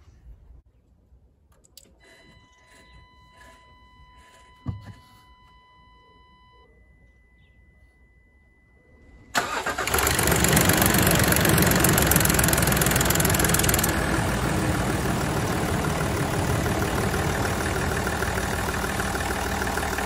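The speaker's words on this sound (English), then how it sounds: "now we're just gonna let the engine run for a couple of minutes" A few faint clicks and beeps, then the diesel engine of a 2012 Range Rover Sport SDV6 cranks and catches suddenly, settling into a loud, steady idle rumble close by.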